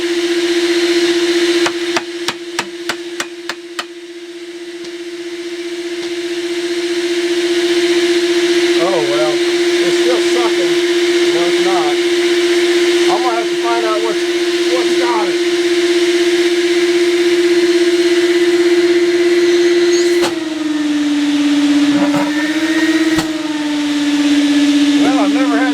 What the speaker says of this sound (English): now I go back to vacuuming a little bit